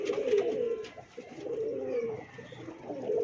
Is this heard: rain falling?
no